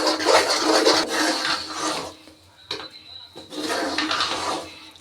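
Soft Mysore pak mixture is stirred in a pan over low heat, giving close rasping scrapes of a utensil against the pan in two long bursts separated by a quieter pause.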